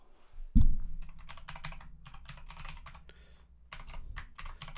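Rapid typing on a computer keyboard, with bursts of clicky keystrokes in uneven runs, close and clear, a brief pause midway and no talking.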